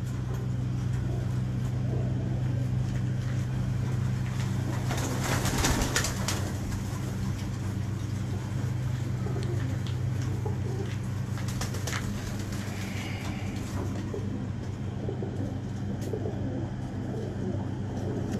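Sialkoti pigeons coo close by in a loft, soft repeated throaty coos over a steady low rumble of background noise, with a few sharper flutters and a faint voice.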